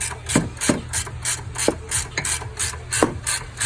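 Hand wrench ratcheting on the 18 mm upper control arm nut and bolt of a 2019 Dodge Charger Scatpack, a close, steady run of rapid clicking strokes with brief pauses between pulls.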